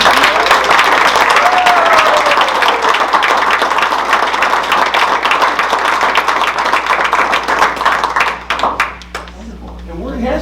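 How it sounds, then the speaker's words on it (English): Loud, sustained applause from an audience for a student at a school board meeting, dense clapping that carries on for several seconds before thinning into a few scattered claps, with a brief voice rising above it partway through. "Can we give a round of applause?"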